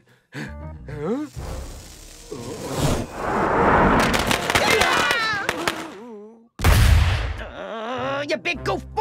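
A cartoon explosion from an animated kids' comedy film bursts into a loud, sustained blast and rumble lasting several seconds, followed by a second sharp boom, with character voices talking around it.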